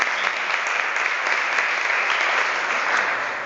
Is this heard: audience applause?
yes